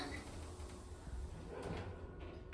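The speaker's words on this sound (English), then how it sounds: "Doors opening." Doors of a Schindler 5500 MRL traction lift sliding open, a low steady rumbling slide with a soft knock partway through, heard amid continuous background noise.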